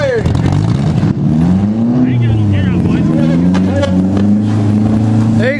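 A four-cylinder demolition derby car's engine is running after being fired back up, its loud droning and revving steady and close at a Belfast, New York county fair derby, with someone talking over it.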